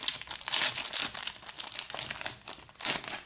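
A Pokémon XY Etincelles booster pack is torn open by hand, with close, bright foil crinkling and crackling in rapid irregular bursts throughout.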